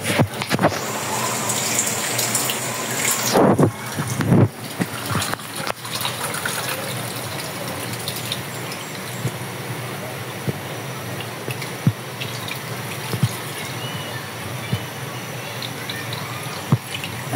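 Water pouring and splashing while coconut milk is being made, a steady close gush with a few louder splashes and drips, with brief background sounds of people nearby.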